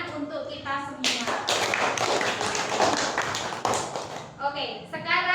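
A classroom of children clapping together in a broad, dense burst of applause that runs steadily for several seconds after a teacher's voice, with a voice heard again near the end.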